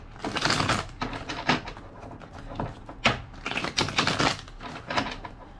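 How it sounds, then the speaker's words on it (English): A deck of tarot-style cards is shuffled by hand with a run of soft, irregular riffling and flapping bursts. The sound is close and fairly quiet, with no voice over it. "2 more shuffles."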